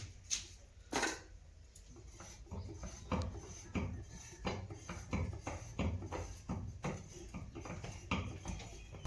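A metal kadai pan clanks and knocks in a home kitchen, a series of light irregular metallic taps and bumps, fairly close and with no talking over them.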